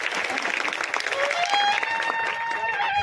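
Sustained applause from an audience at a marathon ceremony held for Chhatrapati Shivaji Maharaj Jayanti, dense and continuous throughout at moderate loudness.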